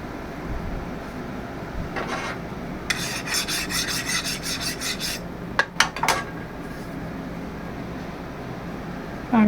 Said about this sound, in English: Now I'm going to deburr the part.